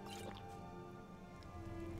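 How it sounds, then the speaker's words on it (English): Water being drunk in Skyrim during a hunter's campfire camp: soft wet drips and squishy liquid gurgles run steadily over a low background hum, close and quiet, with no talking. "Drink a little bit of water"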